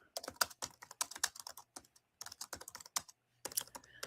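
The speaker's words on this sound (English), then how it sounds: "You could mute your typing." Quick, loud clattering on a computer keyboard, close to the mic, comes in rapid bursts of keystrokes separated by short pauses.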